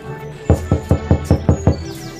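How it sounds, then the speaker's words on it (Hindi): Rapid cartoon knocking on a house door, seven quick evenly spaced knocks close and clear over a faint background, with no talk. "तभी सुंदरी कौवी उनके घर का दरवाजा खटखटाती है"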